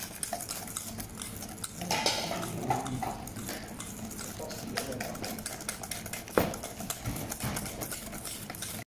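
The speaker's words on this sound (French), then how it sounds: "On fouette énergiquement jusqu'à ce que le mélange soit blanchâtre." Egg yolks whisked vigorously in a bowl for a pistachio-raspberry cake, a rapid continuous rattling and clicking of the whisk against the bowl, close and fairly quiet, with a sharper clink near the end.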